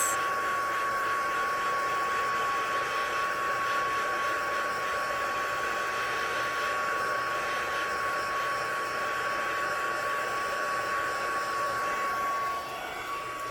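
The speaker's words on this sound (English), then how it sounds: "I'm trying to be careful when I heat set it" Heat tool held over a craft card while heat setting embossing powder gives a continuous, even blowing whir with a steady tone, loud and close, alone with no talk.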